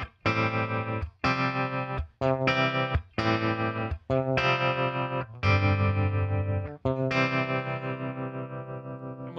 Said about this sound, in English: I want to turn on the tremolo and show you some of the range of the speed and depth knob.